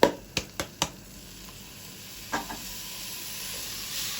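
Rice goes into a hot pan for Egyptian koshari: a few sharp clatters as it lands, then a soft steady sizzle with a couple of scraping stirs.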